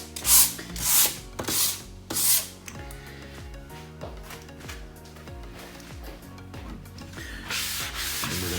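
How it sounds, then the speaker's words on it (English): Light strokes of sanding on an epoxy board, a few strong rasping passes at first, then softer continuous rubbing with some hum in the background. "just a little bit of light sanding."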